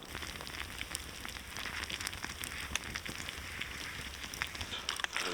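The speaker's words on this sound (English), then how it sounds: "The rain's just started coming in again." Rain patters onto tarps at a bushcraft woodland camp, a faint, dense, steady hiss of drops with occasional louder taps, continuous and without voices.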